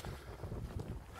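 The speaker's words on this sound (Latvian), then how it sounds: "Šodien ļoti liels vējš" Strong wind blows over a riverbank by a thick spruce stand on the Abava river, a steady low rumble of gusts buffeting close and fairly loud with no other clear sounds.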